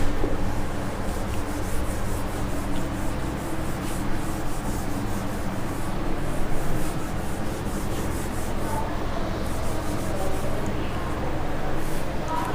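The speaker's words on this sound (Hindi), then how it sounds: "अब एक बार मैं इसे थोड़ा सा रब करता हूं" A board being rubbed and erased during a maths lesson, giving a continuous close scraping and rubbing noise that persists steadily throughout without clear pauses.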